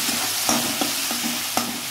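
Tomatoes seasoned with salt being stirred in a pan for a Bengali parshe fish curry, a soft sizzle running steadily beneath several distinct scrapes of the spoon against the pan, close and alone.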